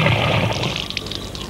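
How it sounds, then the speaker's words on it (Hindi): Water splashing and pouring steadily, loud and close, a continuous rushing stream with no pauses through the short stretch. "चल चल पानी डाल।"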